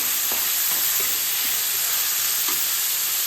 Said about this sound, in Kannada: ಜೀರಿಗೆ ಆಗಿದ ತಕ್ಷಣ ಆನಿಯನ್ಸ್ ಹಾಕ್ಕೊಬೋದು. ಇದು ಸ್ವಲ್ಪ ಟ್ರಾನ್ಸ್ಪರೆಂಟ್ ಆಗೋವರೆಗೂ ಸಾಟೆ ಮಾಡ್ಕೊಳ್ಳೋಣ.